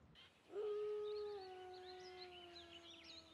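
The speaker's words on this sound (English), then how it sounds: "Different wolves would howl longer and louder for certain individuals." Wolves howl in long, drawn-out calls, one steady voice joined by fainter overlapping howls that waver and fade, heard at a distance in quiet surroundings.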